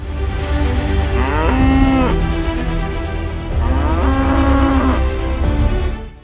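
Cattle moo loudly and close by in two long, drawn-out calls that rise and fall in pitch, with a short lull between them.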